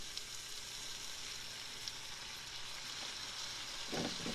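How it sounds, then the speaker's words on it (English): Chicken strips sizzle softly in olive oil in a pan, a faint, even hiss that goes on throughout with small crackles and a little clatter near the end. "Now I'm just going to start adding my plain old chicken in here. You can already hear the sizzle"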